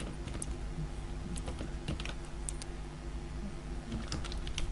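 Fast, irregular typing on a computer keyboard while building website code, soft clicking keystrokes in quick bursts, close and fairly quiet, with no speech.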